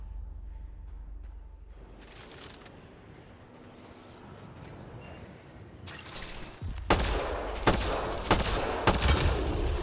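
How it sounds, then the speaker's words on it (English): A rapid volley of gunfire is aimed at a Ket device in Mass Effect Andromeda, with sharp repeated shots and bursts building in the latter half after a quieter stretch of rumbling ambience. "Shooting the device will destroy it."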